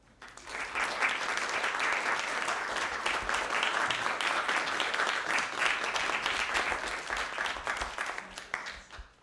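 An audience at an evening lecture on religion and society applauds to welcome a speaker, steady dense clapping swelling quickly and holding for several seconds before tapering off near the end.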